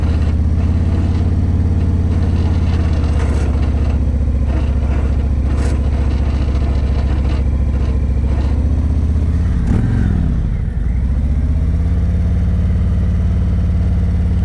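A motorcycle engine runs loud and close during an advanced slow-speed riding practice session in Texas, holding a steady low idle-like drone with brief throttle changes and a dip and recovery partway through.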